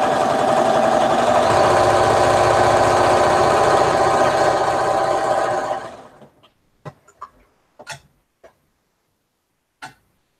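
A sewing machine stitches Christmas quilt pieces together, a steady dense whir running for about six seconds before stopping, followed by a few scattered light clicks and taps.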